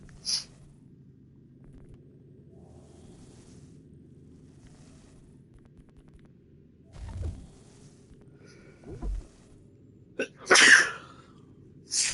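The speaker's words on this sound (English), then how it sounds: "I'm going to have no voice tomorrow if I keep sneezing like this." Two sharp, loud sneezes burst out late against a quiet background of faint game sounds, preceded by a few softer breathy noises.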